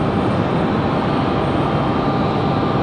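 A Breeze Airways jet arriving from San Diego at Raleigh-Durham International Airport, heard as a loud, steady broadband engine roar that holds constant throughout with no speech.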